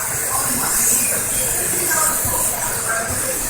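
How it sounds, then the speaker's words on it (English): Cooking spray hisses steadily and finely onto a pan for macaroni and cheese, a continuous close, loud spray with no breaks and no talking. "you spray the pan very evenly and very fine"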